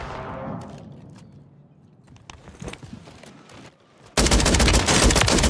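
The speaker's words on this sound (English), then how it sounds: "Chat, I want to see how far this shotgun reaches." A shotgun fires in a first-person video game, with sparse footsteps and movement before a sudden loud burst of rapid, repeated blasts that continues to the end, close and dominant, with no talking.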